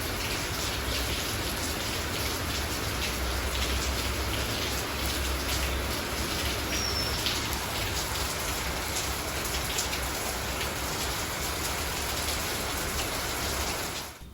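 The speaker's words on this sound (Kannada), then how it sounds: "ಮಳೆ ನೋಡಿದ್ರಿ ಅಲ್ವಾ." Steady rain falls outside during a morning at home, a dense continuous hiss with scattered patter of drops, loud and unbroken for the whole stretch with no voices.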